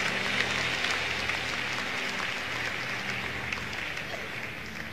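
A church congregation applauds steadily, with a soft wash of clapping and murmured acclaim at moderate distance, continuous throughout.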